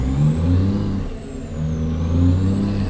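A video-game truck's Cummins NTC Big Cam 400 engine revs and rises in pitch through gear changes, a loud steady drone with a faint high whine above it.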